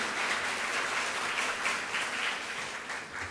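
An audience at a university debate contest final claps for a team, a steady, moderately quiet roll of applause with no pause, easing off slightly toward the end.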